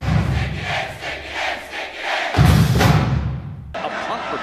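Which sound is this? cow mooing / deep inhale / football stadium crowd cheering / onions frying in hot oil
football stadium crowd cheering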